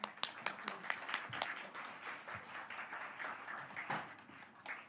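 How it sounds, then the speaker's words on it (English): Applause from a small audience at a chronic fatigue syndrome advisory committee meeting, welcoming new members: scattered hand claps that build into a modest, fairly quiet round lasting several seconds. "So a round of applause again for our new members"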